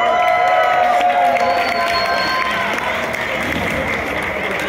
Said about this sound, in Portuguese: Vocês podem abrir seus olhos e voltar para os seus lugares com o aplauso do público